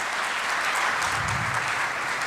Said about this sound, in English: let's give a round of applause to Poulami Das from Georgia Tech